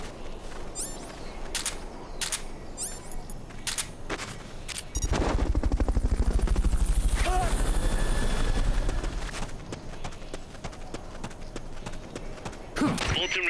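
The Fulton recovery helicopter in Metal Gear Solid: Peace Walker makes a loud rhythmic rotor thump that swells for a few seconds amid scattered sharp game clatter and shots, with a voice speaking over part of it.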